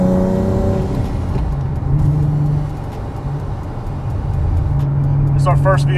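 Supercharged Nissan 370Z with a new cog setup heard from inside during a ride, its engine droning steadily and swelling as it accelerates, with people talking over it throughout.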